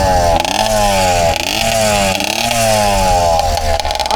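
A 100cc motorized bicycle engine runs loud and close, its buzzy two-stroke note rising and falling as the throttle is blipped repeatedly in quick revs.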